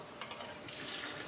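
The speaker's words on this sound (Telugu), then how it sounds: "గ్రేవీ కోసం కొద్దిగా వాటర్ వేసుకొని కలుపుకోవాలి." Water is poured into a pan of tomato and brinjal curry to make gravy, a soft, brief splashing trickle heard close up and fairly quiet.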